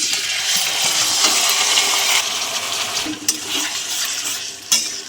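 Chicken pieces sizzle in a hot pan with fried chopped onion and whole cumin while a spatula stirs and scrapes in loud, close bursts, with sharp knocks against the pan and no talking.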